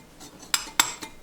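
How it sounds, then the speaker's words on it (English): A utensil clinks against a bowl while flour, cocoa powder and baking powder are stirred together, a few sharp close taps over a soft scraping bed. "I'm gonna mix dry ingredients: flour, cocoa powder, and baking powder."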